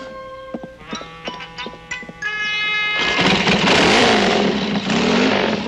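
A motorcycle in a 1978 Mexican film scene is kicked over with sputtering bursts, then catches and revs loudly and steadily up close, with clattering alongside.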